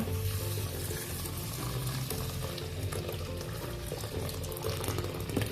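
Boiled water pours steadily from a kettle with a continuous rushing, bubbling sound that stays fairly even throughout.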